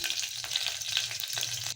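Mustard seeds, garlic, cumin and curry leaves sizzle in hot tempering oil for a radish lentil saaru, a steady close crackle and hiss with no talk.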